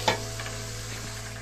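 Vegetable roll filling with potato fries in a covered pan, giving a steady, close sizzle with a light stir-scrape near the start and no voices.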